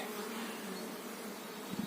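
Dense, continuous buzzing of many honeybees flying close together around a hive at an apiary on a slightly windy day, a steady humming drone with no voices.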